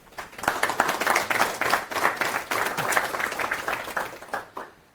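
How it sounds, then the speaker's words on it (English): An audience at a tech conference session applauds as a speaker is welcomed to the stage, a lively burst of many hands clapping with uneven swells, fading near the end. "Give him some applause."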